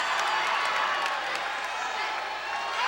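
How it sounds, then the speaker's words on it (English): Loud, steady roar of a basketball crowd cheering at a 1986 college game, Valdosta State versus Troy State, a dense wash of voices and whoops with no pause, with a commentator's voice mixed in. "the crowd is just going crazy here at the complex"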